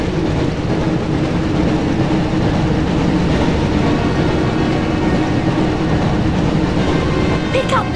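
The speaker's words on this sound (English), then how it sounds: "Looks like we found the train, Ron." A train in the Harry Potter and the Chamber of Secrets PS1 game rumbles steadily, a loud, continuous rolling drone of rail wheels and engine that keeps a constant level throughout.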